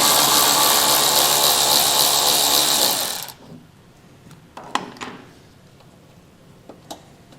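Ratchet loosening a 7mm head bolt on a car's fender liner where the front fascia meets the fender, heard as a loud continuous whirring burst that stops abruptly, followed by a few faint clicks and taps.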